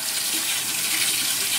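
A bathroom tap runs steadily into a sink, a continuous close hiss of flowing water while warm water is awaited before wetting a shaving brush.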